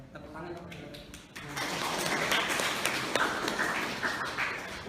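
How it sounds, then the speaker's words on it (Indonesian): A seminar audience in a hall bursts into applause after a brief stretch of talk, a dense, even wash of clapping that holds steady to the end. "tepuk tangan dong"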